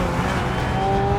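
Ferrari F355 engine revving with five valves per cylinder, titanium connecting rods and 375 horsepower, a loud sustained high-pitched howl with rising tonal whine, steady and close.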